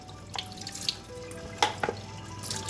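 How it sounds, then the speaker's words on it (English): Butter is kneaded by hand in a bowl of cold water to squeeze out the buttermilk, giving soft wet squelches, drips and sloshing splashes in irregular bursts, close by with no talk. "we're still going to knead this butter, getting all of the buttermilk out"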